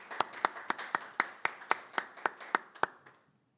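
A city council session audience gives a round of applause, heard as a dozen or so evenly spaced, sharp claps, close and fairly sparse, before fading out.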